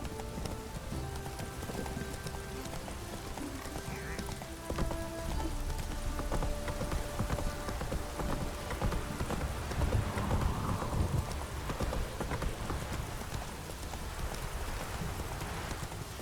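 Geralt's horse Roach trotting in The Witcher 3, steady rhythmic hoof clip-clops over a constant hiss of rain, with faint game music underneath.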